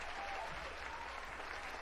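Steady crowd applause from a livestream audience at a Yakuza intro tier ranking, a faint, even wash of clapping that carries through the whole moment without a break.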